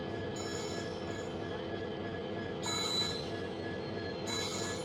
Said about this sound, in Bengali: এদিক দিয়ে এখন চলে আসছে মোরসাং লেক রাঙ্গিয়া এক্সপ্রেস।